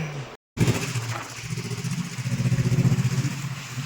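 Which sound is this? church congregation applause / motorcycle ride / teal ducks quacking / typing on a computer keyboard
motorcycle ride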